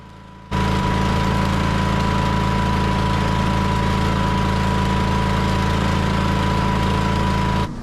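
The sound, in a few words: welding the bumpers of a dock leveler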